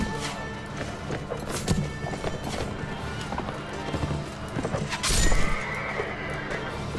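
Fast horses in the medieval battle game Mount and Blade: Warband thunder past in a busy rush of clip-clopping hooves, with neighs and whinnies rising above the clatter and a louder burst near the end.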